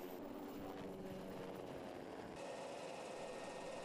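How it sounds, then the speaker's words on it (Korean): A military army helicopter lifts off from a helipad with a steady, dense engine and rotor drone that shifts in tone partway through, with no talking. "헬기가 이착륙장을 박차고 날아오른다."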